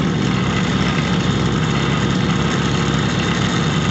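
An electric motor on a Chore-Time Flex-Auger system running steadily after being started, giving a constant, even hum and vibration, close and unbroken throughout.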